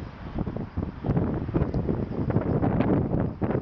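Strong Hurricane Sandy wind buffets the microphone in Norwalk, a continuous loud rushing roar with gusty surges and no voices.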